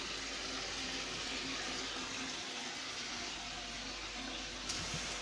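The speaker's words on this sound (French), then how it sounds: "On remplit d'eau et on l'oublie" Tap water runs steadily into a cooking pot in a home kitchen, a continuous hissing rush lasting the whole time with no talk, loud and close.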